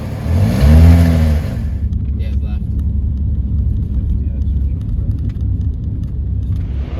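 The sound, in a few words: slight exhaust blow on a V6 Ford Galaxy Mark 1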